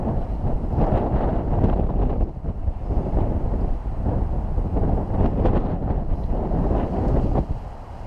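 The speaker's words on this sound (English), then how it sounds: "I honestly don't know which way the wind's coming from anymore." Strong wind buffets the microphone during an outdoor skateboard commute, a loud, continuous roar that barely lets up and has no speech over it.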